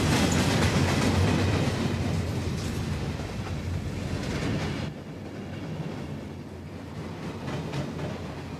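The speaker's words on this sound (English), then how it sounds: "By careful editing, I managed to catch the right train." A passing train clatters steadily along the rails in Australia, loud and close with a continuous roar and rhythmic clacking that eases slightly as it goes by, with no talk.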